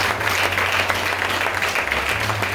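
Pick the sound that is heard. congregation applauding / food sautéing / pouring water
congregation applauding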